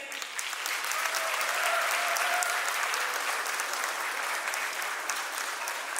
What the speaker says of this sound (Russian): Бурно аплодисменты.